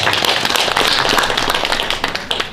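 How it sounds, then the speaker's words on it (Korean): Audience applause at a founding ceremony for a Korean healing-agriculture association branch, a dense, continuous patter of many hands clapping indoors for a couple of seconds with no talking over it. "박수 한번 쳐주세요."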